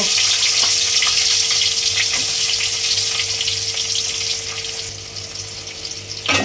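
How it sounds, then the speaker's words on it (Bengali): Onions hiss and crackle steadily in hot oil as they fry to brown, a close, continuous sizzle that eases slightly toward the end. "পেঁয়াজটাকে লাল করে ভেজে নেব।"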